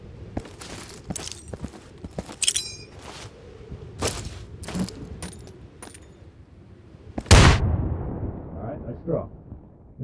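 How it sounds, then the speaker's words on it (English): A frag grenade explodes inside a dumpster in the Insurgency video game, one loud low blast with a metallic ring, preceded by scattered clicks and clatters of handling and movement. "Yeah, throw a frag in there."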